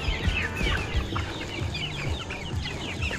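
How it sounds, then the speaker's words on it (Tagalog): Domestic chickens cluck steadily at feeding time in a rural yard, many overlapping short calls near and far, forming a busy continuous chorus with no talk. "Tayo dito para patukayin yung ating alagang manok."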